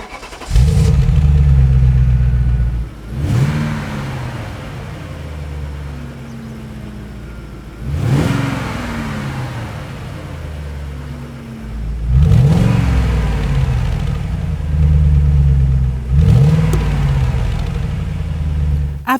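An Audi RS6 V8 engine revs hard several times, each loud close blip swelling and falling back to a deep rumbling idle. The bursts are spaced a few seconds apart with no talking.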